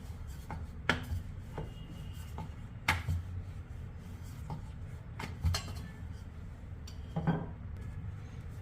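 A roti for Sindhi papad paratha is dusted with flour and rolled out, giving faint soft rumbles and scattered light knocks of the rolling pin on the board. The sound is quiet and there is no speech.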